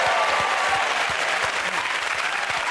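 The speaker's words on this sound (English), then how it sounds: "Let us applaud him" A studio audience at a comedy panel show claps steadily and densely, filling the whole short stretch with even applause.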